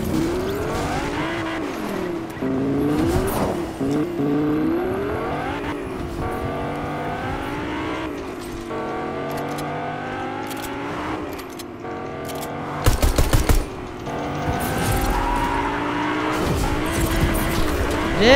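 Car in the Fortnite video game driving with a continuous revving engine whose pitch swoops up and down, tire squeals and skids, and a burst of harsh clattering near the end.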